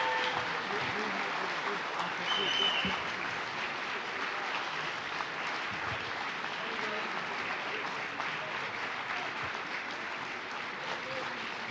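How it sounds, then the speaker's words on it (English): An audience at a Bronco hall of fame ceremony applauds the 1964 hockey team, with steady, moderately faint clapping continuing evenly, a few voices underneath. "a round of applause for the 1964 hockey team"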